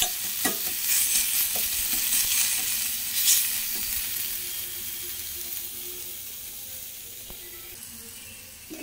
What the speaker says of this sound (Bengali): পেঁয়াজগুলো হালকা ভাজা হয়ে গেছে। এবার জিরা ধনিয়া শুকনো লঙ্কা